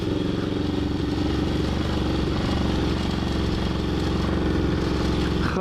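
Despatch Tracker motorcycle ridden through rutted field, its engine a loud, close, continuous drone with a rough clattering edge throughout.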